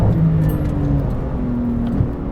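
A 700 hp Porsche 911 GT2 RS MR lapping the Nordschleife, heard as a steady, loud, close engine drone with a low hum that holds through the clip, no voices.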